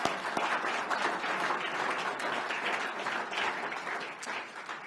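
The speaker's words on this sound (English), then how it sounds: "yes, let's give them a round of applause." An audience at a Kansas City Chiefs and Missouri Western press conference about a training camp deal breaks into sustained, even applause. It stays fairly close and continuous for the whole stretch before easing slightly at the end.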